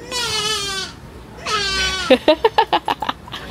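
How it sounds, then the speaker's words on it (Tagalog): A sheep at a zoo gives two drawn-out, wavering bleats close by, followed by a quick run of short rhythmic pulses, loud against quiet surroundings. "Oh, Saya, look! It's a sheep!"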